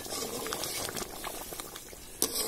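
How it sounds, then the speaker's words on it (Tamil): Chettinad chicken curry bubbles and simmers in a pot with dense, close popping and gurgling, one sharper pop near the end. "நல்லா சூப்பராக கொதிச்சிச்சு."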